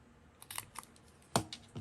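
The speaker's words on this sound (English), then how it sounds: "I just take my hole punch and turn it the opposite way." A hole punch turned backwards clips rounded corners on old book pages, giving a few quiet crisp snaps and rustles, with two sharper punches near the end.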